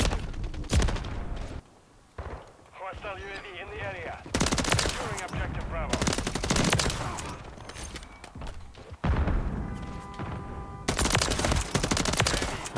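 MCW rifle fire in close-range Modern Warfare 3 combat, with rapid automatic bursts crackling in several loud sequences and separated by brief pauses, plus thuds and footsteps between strings of shots.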